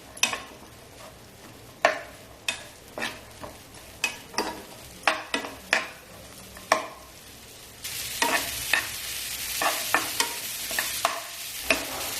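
Onion and green chili fry in hot oil while a spatula stirs and taps the pan in repeated knocks, the sizzle growing louder and denser partway through.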